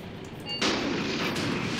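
Tank and infantry guns fire in the WWII tactical battle game Graviteam Tactics: a sharp, loud blast breaks out, followed by a booming rumble that lingers, set against a steady background of battle noise.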